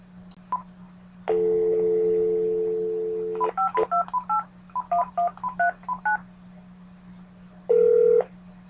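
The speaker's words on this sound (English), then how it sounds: "I am a caregiver calling in my arrival time from my patient's home phone" Home telephone keypad dialing: a long tone, then a quick run of about a dozen short beeping key presses in irregular rhythm, then another held tone near the end, all over a steady low hum.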